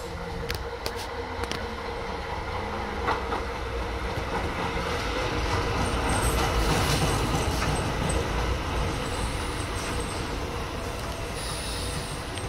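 A Tyne and Wear Metro train, a not-in-service unit 4017, rumbles past on rails, a steady loud roll lasting throughout with faint wheel squeal and no talk.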